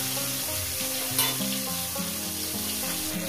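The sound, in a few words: fish frying in hot oil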